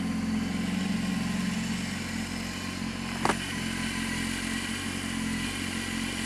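A 2015 BMW S1000RR sport motorcycle engine idling while warming up, a steady close rumble with a brief click partway through.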